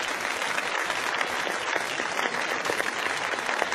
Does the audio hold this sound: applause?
yes